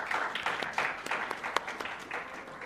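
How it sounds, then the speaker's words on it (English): Dinner guests at an accessibility in STEM event applaud to welcome a student speaker, a moderate burst of individual claps that is fairly close, then gradually thins out. "So please give him a round of applause."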